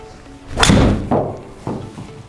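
A golf ball struck with a PING G430 seven wood outdoors, one sharp loud impact followed by a couple of fainter thuds as it fades.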